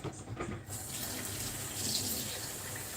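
Running kitchen tap pours into a sink during washing up after baking a carrot cake, a steady close gush of water with some clinking near the start and no talk.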